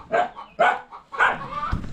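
A dog outdoors on a rainy day gives three loud, close barks in a steady rhythm, followed by softer rustling and movement.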